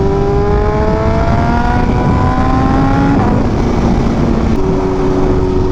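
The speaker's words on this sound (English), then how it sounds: "this is a different engine that definitely revs faster" A BMW M1000RR motorcycle engine revs loud and close, rising and falling in pitch as the throttle climbs and drops, a dense continuous roar with shifting whine tones throughout.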